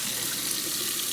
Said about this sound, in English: And then I just rinse them off really well.